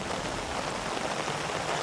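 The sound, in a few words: rain falling at night in the jungle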